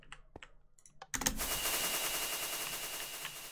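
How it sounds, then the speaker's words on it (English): Minecraft fireworks launch in a video game, a few soft clicks and pops and then a sudden dense burst of crackling, whooshing launches that keeps going steadily, with no one talking. "Now these are just flight fireworks."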